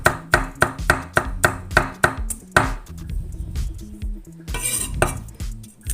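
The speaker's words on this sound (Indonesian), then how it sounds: "Mama Criwis cukup mencincang kasar bawang putihnya seperti ini" Garlic cloves being roughly chopped with a knife on a board: a quick, even run of sharp close knocks, then looser, irregular taps and scrapes, with a short rustling clatter near the end.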